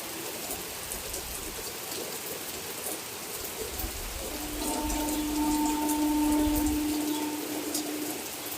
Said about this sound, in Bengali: দেখো একদম সাদা হয়ে যাচ্ছে এত বৃষ্টি